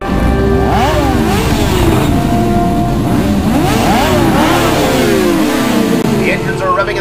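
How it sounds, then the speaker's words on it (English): At the start of the Great Desert ATV Race, a pack of ATV engines revs loudly and close together, pitches sweeping up and down as they launch, with an announcer talking over the roar. "The engines are revving and the starting flag has dropped."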